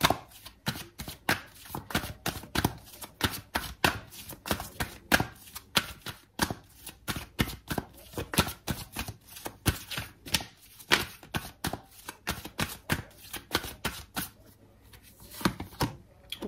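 Tarot cards being shuffled before a card is drawn, a fast run of close, crisp riffling snaps and flicks in uneven bursts, with short pauses between rounds.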